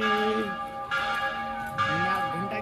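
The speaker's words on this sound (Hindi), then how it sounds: "घंटा की ध्वनि आपको दिव्य ध्वनि सुनाई पड़ रही है" A temple bell rings with long resonant metallic tones, struck several times with the tone decaying between strikes, while faint voices murmur in the background.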